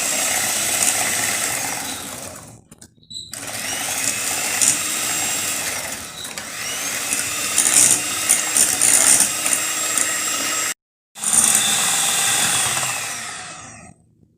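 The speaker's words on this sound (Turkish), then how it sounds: "Şimdi bunu çırpmaya başlıyorum arkadaşlar." An electric mixer whisks sugar, warm water and egg yolks for a birthday cake batter, a steady high mechanical whir that runs continuously, cuts out briefly twice, then resumes before stopping.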